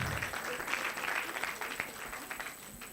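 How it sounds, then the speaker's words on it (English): Faint round of audience applause at a Kenyan nutrient profile model dissemination event, a soft, steady patter of clapping heard from a distance throughout. "another round of applause as they get to sit down"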